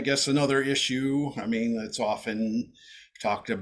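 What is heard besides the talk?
No distinct noise like a dog, phone or traffic.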